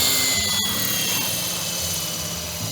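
A model helicopter's main rotor thrums steadily with throttle brought back in after a low-rotor-speed glide, a continuous close whirring buzz with a brief tick near the start.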